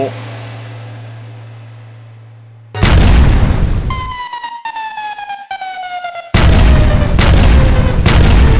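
Firecrackers explode in a fireworks shop advert: two sudden loud booms burst out and crackle on, with a falling whistle-like tone sounding between them.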